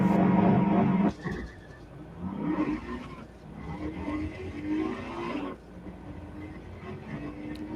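A car accelerating steadily from 1 up to 160, played back from a video, gives a loud, continuous engine and road roar that opens with a brief louder burst and then holds a rising drone throughout.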